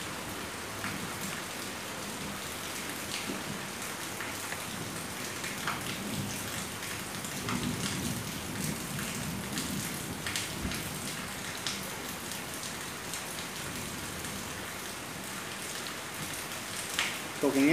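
Heavy rain pours down outdoors in southern Thailand, a dense continuous hiss of drops hitting surfaces throughout, steady and fairly close, with someone talking quietly underneath at times.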